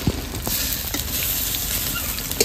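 Fish roe fritters made with gram flour and rice flour sizzle and crackle steadily in hot mustard oil in a kadai, up close, with a few sharp spatters standing out.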